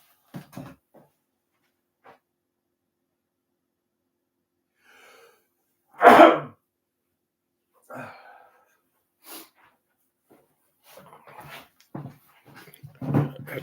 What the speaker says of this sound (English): That sneeze.